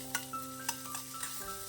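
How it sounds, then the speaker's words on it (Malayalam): Onions being stirred and sautéed in a pan for a chutney, with soft sizzling under a few sharp scraping clinks of a spoon against the pan, fairly quiet and close, with no talking. "ഇനി ഇത് വഴറ്റിയെടുക്കണം."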